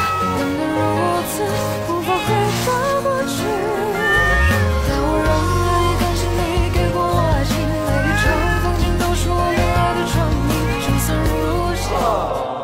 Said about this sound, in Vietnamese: một chú mèo trắng đang đứng bám chặt tay trước cửa kính rồi kêu la như đang muốn cầu xin một điều gì đó